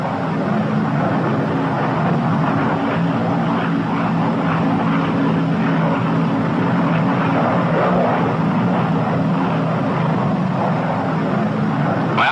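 Steady, loud drone of the twin piston engines of a P-61 Black Widow night fighter in level flight, a continuous cockpit roar with no change in pitch or level throughout.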